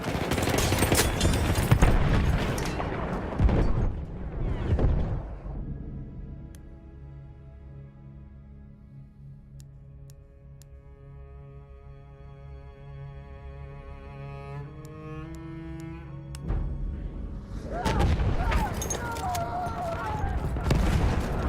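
Sustained gunfire is aimed at an enemy aircraft in the Battlefield 1 video game. Dense, loud bursts of shots open and close the sequence, with a quieter stretch of tonal engine drone and distant firing in between.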